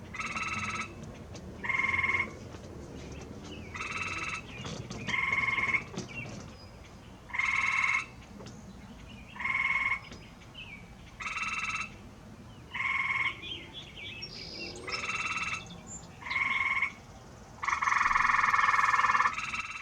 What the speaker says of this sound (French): Un grenouille appelle l'autre grenouille.